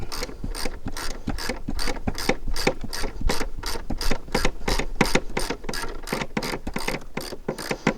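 A hand ratchet clicks rapidly and evenly as it backs out a thread-locked bolt on a Mercedes R129 SL-Class during lift cylinder work, each crisp pawl click close and loud in a steady rhythm with no talking.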